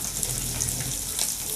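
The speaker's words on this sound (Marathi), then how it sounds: "ह्या काळ्या तव्यामध्ये मच्छी एकदम कट्टक भाजतात," Catla fish pieces sizzle on a black iron tawa, a close, continuous frying hiss that stays dense and even throughout the short stretch, with no one talking.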